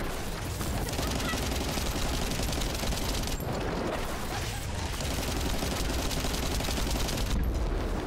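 Sustained automatic gunfire in the shooter video game The First Descendant, a dense, continuous and loud barrage that barely pauses, with game effects layered underneath.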